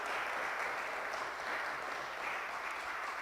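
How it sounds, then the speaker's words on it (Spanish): Sustained applause from a church congregation during an evangelical Sunday-afternoon service, a dense steady wash of clapping filling the room at even loudness throughout. "Denle ese aplauso fuerte al Señor en esta tarde"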